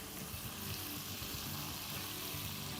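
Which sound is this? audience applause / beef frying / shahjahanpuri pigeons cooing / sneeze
beef frying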